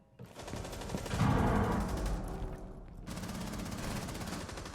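Automatic weapon fire in Rainbow Six Siege, a steady rattling burst that runs through the whole stretch, swelling louder early on and then continuing at an even, close level with no talk over it.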